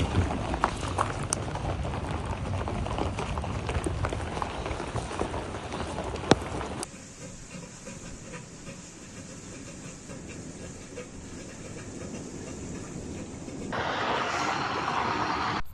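Large walnut-sized hailstones pouring down in a village in Adıyaman, Turkey, a dense, continuous rattling hiss of impacts, loud throughout with sharper knocks early on.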